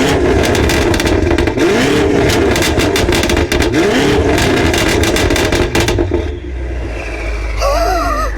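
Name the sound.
prototype car engine revving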